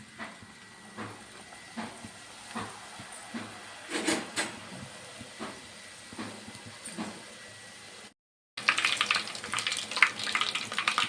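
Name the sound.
puri deep frying in oil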